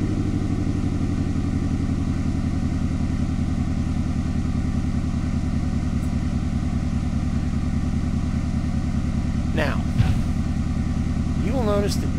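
A video game vehicle engine runs steadily in third gear with the throttle cracked open, giving a continuous droning hum with harmonic layers throughout, broken by brief squeaky sweeps near the end and a small bump around ten seconds.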